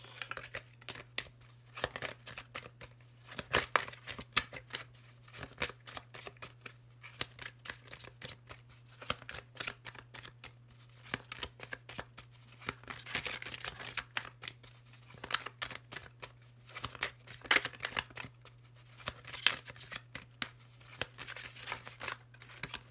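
Oracle cards being shuffled by hand during a tarot-style reading, with dense papery riffles, slides and flicks running steadily through the whole span at close range, with no voice over them.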